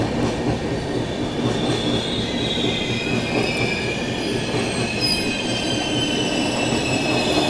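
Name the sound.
express passenger train passing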